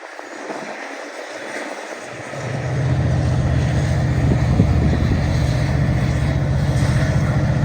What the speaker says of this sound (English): I decided to even video train 2720 leaving Elgin.